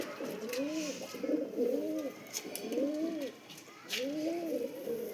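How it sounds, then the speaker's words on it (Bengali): Madras and Malwai pigeons cooing close by, several soft throaty coos in uneven bursts with short pauses between them, and no talking. "দুর্দান্ত পায়রা।"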